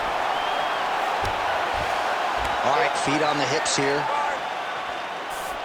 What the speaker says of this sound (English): Oh, crowd just loving it as the fighters, after an extended grappling battle, make their way back to the feet.